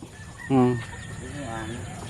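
Two short, loud clucks from a chicken, the first stronger than the second, over a faint steady background hum.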